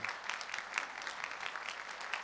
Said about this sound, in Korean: 여러분들 큰 박수로 축하해 주시고 격려해 주시기 바랍니다.